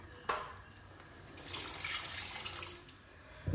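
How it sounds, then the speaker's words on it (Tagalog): Water pours into a cooking pot that already holds sautéed ingredients and broth. A quick splash comes first, then a steady, moderately faint stream of poured water runs for about a second and a half before tapering off. "Dagdagan pa natin to ng tubig."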